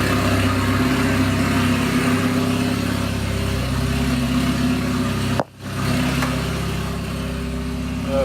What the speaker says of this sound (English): we're letting the car warm up right now.